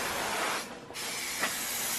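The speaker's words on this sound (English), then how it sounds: "There's so much spray paint in the air." A continuous hissing spray from a spray paint can painting a Mazda Miata, briefly pausing before resuming, close by and steady.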